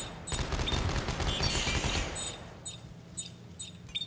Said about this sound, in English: There's dual machine guns.